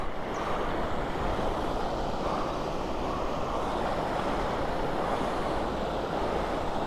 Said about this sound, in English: That little waterfall.